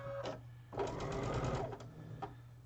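A domestic sewing machine stitches pre-cut cotton quilting fabric in a short steady run at a fine stitch length, with a brief start-up hum before it and a short burst of stitching after, alone without talk.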